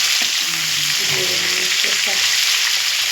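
Onions frying in a pan until golden, a continuous bright sizzle with occasional stirring scrapes and clinks, close and steady throughout, with no talk.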